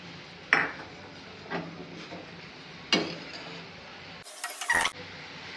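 Spoon scraping and clinking against a pan while grated carrot halwa is stirred with sugar, a few distinct metallic knocks spaced apart over a quiet background.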